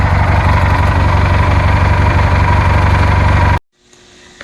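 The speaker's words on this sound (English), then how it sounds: "if you ever get an opportunity to buy an old lawnmower with a 20 horsepower Kohler Magnum engine, you ought to buy it" A 20 HP Kohler Magnum engine on an old lawnmower idles loudly and steadily with a throbbing low rumble, then cuts off abruptly near the end, leaving a faint quiet tail.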